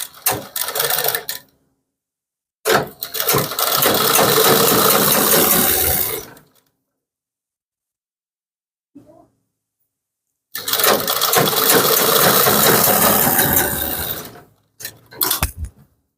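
A sewing machine stitches a kurti suit in three separate bursts of steady, fairly loud whirring, with short gaps of silence between them and a faint click in the middle pause.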